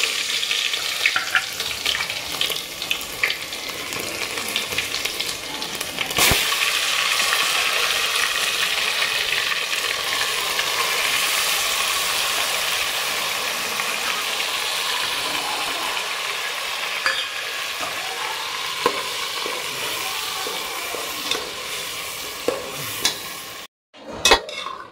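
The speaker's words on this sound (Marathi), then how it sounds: "आता फोडणी देते।" Whole spices are tempered in hot oil for chicken biryani, giving a loud, continuous sizzle and crackle with occasional stirring scrapes that runs for about twenty seconds before a brief cut near the end.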